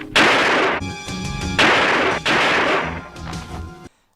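Loud gunfire in a fight scene from the 1991 action film Samurai Cop: three long, harsh bursts of shots and crashes, with short breaks between them, ending abruptly near the four-second mark, with no voices heard.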